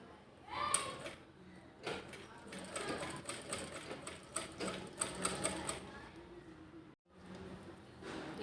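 A sewing machine stitches handles onto a bag made from woollen waste, running in short irregular bursts of mechanical chatter with brief pauses, fairly close and moderately loud, with no talking.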